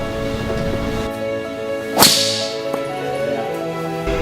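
A golf club strikes the ball on a deliberately cut shot during practice on a range, one sharp, crisp impact followed by a brief swishing trail, heard over steady background hum.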